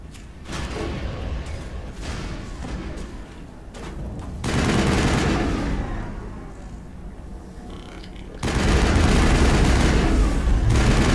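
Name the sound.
missile explosion hitting the player in the video game Mass Effect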